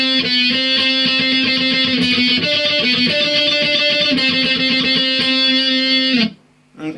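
Electric guitar solo, a loud, steady distorted lead line with sustained notes over a driving rhythm, stopping abruptly near the end.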